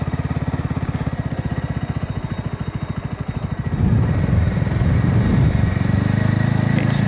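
A BSA Bantam 350 motorcycle engine throbs with a fast, even single-cylinder pulse, then swells louder and rougher as it accelerates away, close and dominant throughout.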